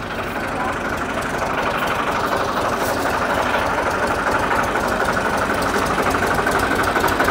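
Tractor engine running at a steady idle in Pakistan, a loud, continuous low rumbling chug with even mechanical vibration, close by and unbroken by speech.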